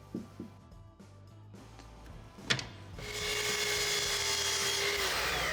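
A wooden decorative side piece for a bedside table is sawn by hand, with a few light strokes and clicks first, then a loud, steady rasping cut that fills the last half of the clip.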